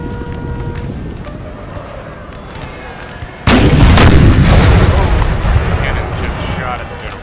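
Artillery fire in the Napoleonic battle game Napoleon Total War: a low battlefield rumble suddenly broken by a loud, booming cannon blast that rolls and decays over several seconds, with game voices faintly beneath.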